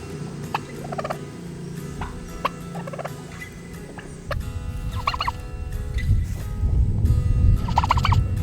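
Turkeys gobble in repeated bursts over a busy background of low clucking and flock noise, growing louder toward the end.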